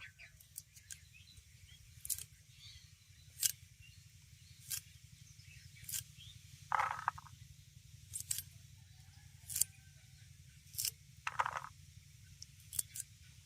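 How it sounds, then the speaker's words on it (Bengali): Green beans being chopped with a knife on a cutting board while dal is prepared, giving sharp, irregular clicks and taps spaced a second or two apart over a low steady hum, with no talking. "এবার আমি কয়েকটা বিনস নিয়েছি বিনসটাকেও একইভাবে কেটে দেব"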